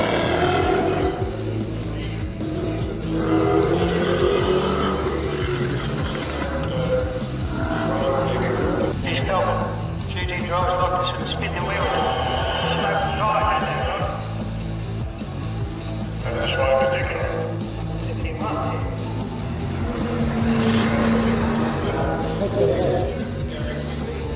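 Race cars compete at a Ford 100-year celebration at Rob Roy Revival, their engines droning and revving steadily with the odd tyre squeal while someone talks over them the whole time.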